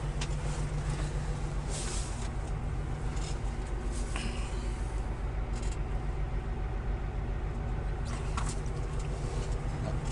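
Truck engine idling in a steady, low, even rumble that continues throughout, close and fairly quiet, with faint clicks and small bumps over it and no talk.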